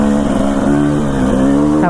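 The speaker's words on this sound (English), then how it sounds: "This bike is running." A dirt bike engine runs on a mountain single-track trail, loud and close with a steady buzzing tone that rises and dips slightly in pitch. No talking.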